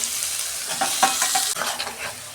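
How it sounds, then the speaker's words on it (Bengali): Tomato and ginger hit garlic already frying in a pan for a chicken dish, giving a close, loud sizzle with rapid bursts of stirring and spatula scrapes. "এই যে রসুনটা আমি ভেজে নিয়েছি, আদাটা দিয়ে দিচ্ছি। টমেটোটাও দিয়ে দিচ্ছি।"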